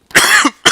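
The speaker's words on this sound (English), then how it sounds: "I'm going to cough my head off since I'm recording." A single person coughs twice up close, a sharp harsh burst lasting about a third of a second, a short pause, then a second cough starting.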